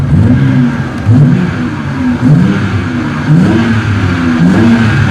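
A BMW engine revs repeatedly in short bursts with a throttle controller set to race mode, several quick rises and falls in pitch, loud and close, with no talking.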